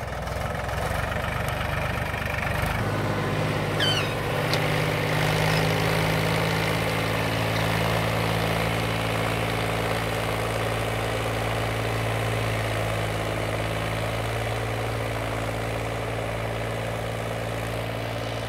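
A Mahindra 265 tractor, a roughly 30 hp machine, pulls a heavy load with a loud, steady engine drone. It holds a constant low throb and a sustained hum throughout, with no voices.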